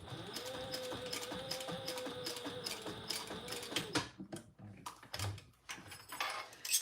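Sewing machine stitching two rows along a folded bag strap with a slider on it, a soft rapid mechanical whir for about four seconds, then stopping into scattered clicks and handling knocks.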